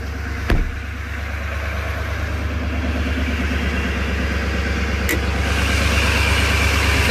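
Duramax diesel truck engine idling after a cold start, a steady close rumbling clatter that slowly grows louder, with a couple of brief sharp clicks.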